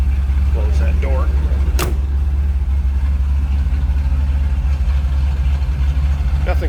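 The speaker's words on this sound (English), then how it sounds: "Just a nice little rumble coming out of that small block shed." Low, steady exhaust rumble from the small-block engine of a 1946 Chevrolet pickup street rod idling smoothly, heard from behind the truck, with a brief sharp click partway through and a voice faintly in the background.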